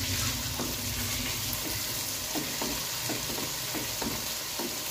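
Masala spices roasting in a pan for aloo matar curry, a steady sizzle with a few soft scrapes of a spoon stirring through it, close and fairly even throughout with no talking.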